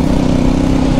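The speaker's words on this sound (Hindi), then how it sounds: "तो आज हमारे साथ चल रही है ओनली वन लाउड बाइक, वो है ये अपाची।" A loud Apache motorcycle engine gives a steady, close, low droning rumble with no breaks, heard alone.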